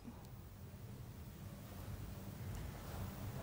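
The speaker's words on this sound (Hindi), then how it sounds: "जहां पर आमा बहारा बांध का पानी सड़क पर आ गया है।" Floodwater from the Ama Bahara dam pours across a road near Amadula village in Balod district during heavy rain, making a steady, faint broadband rush with no voices.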